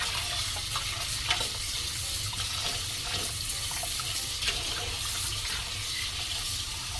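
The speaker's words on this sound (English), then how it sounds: "This meat has to wash proper." Tap water runs steadily into a sink while raw chicken gizzards are washed, a continuous close splashing hiss with small irregular stirring and rinsing bursts, no voices.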